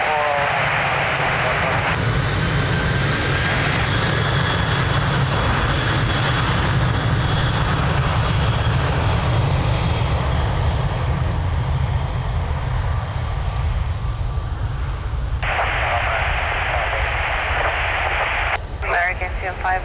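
An airplane taking off from runway 02 at Lisbon Airport, with a loud, sustained engine roar that builds and holds for the whole stretch, while radio voices talk over it.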